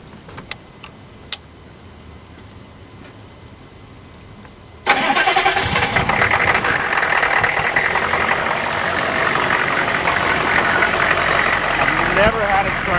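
A car engine cranks briefly and catches fast, jumping from near quiet to a loud, steady idle that runs on with slight roughness for several seconds; a few faint clicks precede the start.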